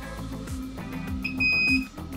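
A multimeter beeps while testing a bridge diode, a short high electronic tone sounding briefly over a quiet background hum.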